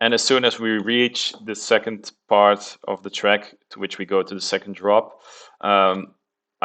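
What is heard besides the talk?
No distinct noise like a dog, phone or traffic.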